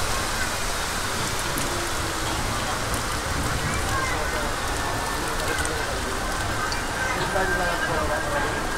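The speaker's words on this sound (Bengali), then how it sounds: "আর কী পরিমাণ বাইরে বৃষ্টি আপনারা শুধু দেখুন" Heavy monsoon rain pours outside a train at platform 21 of Howrah station, a dense, continuous hiss and patter that stays loud and even throughout.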